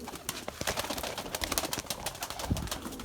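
Erzurum white breeding pigeons flutter and shuffle close by in a loft, with soft scattered bird sounds and brief taps over a low background and no clear speech.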